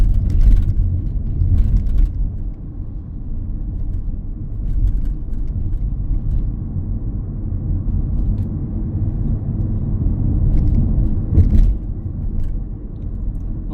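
A car picks up speed steadily to 30 mph on a Huddersfield road, its low engine and tyre rumble continuous and close, filling the cabin with a steady drone and no talk over it.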